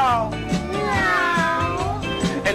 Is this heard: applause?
no